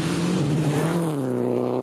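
A car engine hums steadily while driving, a smooth even drone with a slight shift in pitch, close and loud, ending abruptly.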